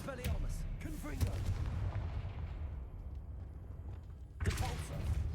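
A Confringo blast spell is cast in a wizarding video game, with heavy booming low rumble sustained across the scene and a fresh burst near the end, with game voices mixed in.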